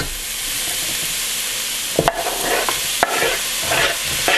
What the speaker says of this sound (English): Going to cook it till that meat is cooked and the onions are translucent